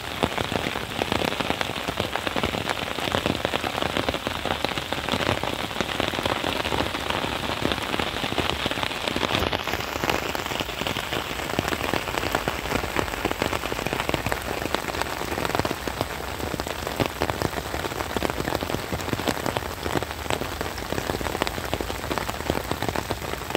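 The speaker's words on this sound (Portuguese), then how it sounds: "hoje amanheceu assim, chovendo bastante aqui na Bahia." Heavy rain pours down on a morning in Bahia, a dense, loud, continuous hiss of drops hitting surfaces, with crackling patter throughout and no talk.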